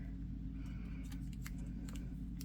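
Scissors snip through washi tape laid over a diamond painting canvas, giving a few short crisp cuts close by over a steady low hum.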